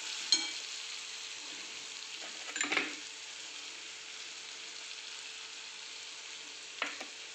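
Cluster beans are stirred in a pan with turmeric and grated coconut over a low, steady sizzle. A few scraping strokes of the spoon come through, one near the start, a cluster midway and another near the end.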